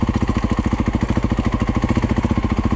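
A Yamaha YZ250F dirt bike engine lugs along at low revs, a loud, close, steady thumping beat with a regular rhythm and no speech.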